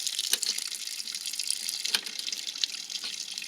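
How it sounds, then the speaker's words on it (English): Water flows steadily out of an RV water heater being drained for winterizing, a continuous hissing splash heard up close with small irregular spatters and no talking. "Water heater draining."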